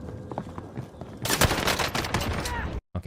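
Gunfire in a video game, a dense rapid burst of automatic shots after a quieter stretch of scattered sounds, loud and close, cutting off abruptly near the end, with some voice mixed in.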